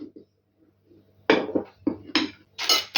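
A utensil clinks and scrapes against a bowl while mixing ingredients for a cake, giving several loud, irregular knocks and rattles that follow a quieter stretch.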